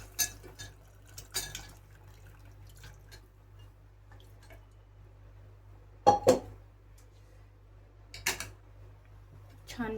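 Cooked mutton is stirred into fried masala in a pot, giving soft wet squelches and a few sharp clinks of a spoon against metal in short bursts separated by quiet gaps.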